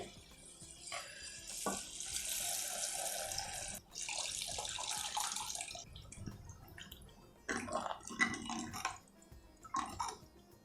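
Tamarind water pours and splashes into a pot in a long stream, then trickles and sloshes in shorter spurts, fairly close with no speech.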